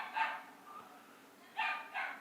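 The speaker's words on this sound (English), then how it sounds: "Yo, my dogs are going crazy, bro." Several dogs bark at home, a burst of two or three barks followed by a pause and then two more sharp barks, heard at a moderate distance with no talk over them.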